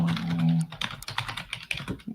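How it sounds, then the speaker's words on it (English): Fast, irregular typing on a computer keyboard, with close, crisp key clicks in uneven bursts after a brief low hum at the start. "Curious typing."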